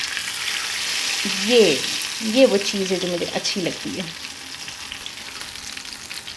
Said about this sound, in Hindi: और अब हम इसे लगाने लगे हैं तड़का।